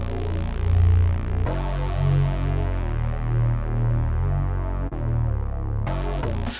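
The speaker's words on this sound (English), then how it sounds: "This sound is called Propaganda Bass." Propaganda Bass synth patch from the Xpand plugin, a deep throbbing bass drone with a few sustained notes changing every second or two, steady and full, with no voices.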